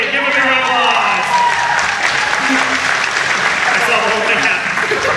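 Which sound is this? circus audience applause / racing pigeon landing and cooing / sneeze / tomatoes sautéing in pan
circus audience applause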